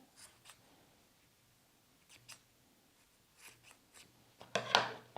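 Scissors snip the excess long yarn strands from a tiny pom-pom, with a few soft, separate cuts spread out and one louder, crisper snip near the end, close and quiet.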